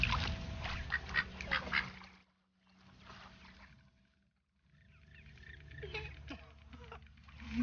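Ducks quack and chatter by the water in the video game That Dragon, Cancer. The calls come in bursts over a soft ambient bed, with a short quiet gap midway before they pick up again.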